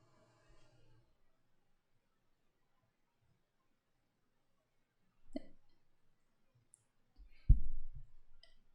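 Two soft mouse clicks on a create button while setting up a VM in a KT Cloud console, one near the middle and a louder one near the end, separated by near silence with no speech.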